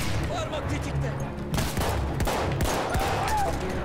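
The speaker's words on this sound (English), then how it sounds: "Took me 4 shots to hit him." Gunfire in the video game Battlefield 1 comes as a rapid fusillade of shots and bursts, loud and fairly dense across the whole stretch, with a player's voice faintly present.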